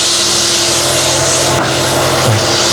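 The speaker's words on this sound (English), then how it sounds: "I'm just going to use this swept back bowl gouge" A swept-back bowl gouge cuts down wood spinning on a lathe, making a loud, continuous, rough scraping hiss throughout with no pauses.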